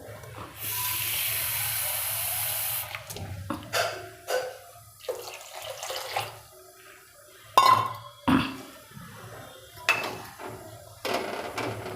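Water pours into a pan in a steady rushing stream for about two seconds, followed by scattered clinks and knocks of a metal utensil.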